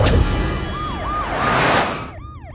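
An ambulance siren wails loudly close by on a road, rising and falling in repeated sweeps before cutting off to shorter, higher yelps near the end.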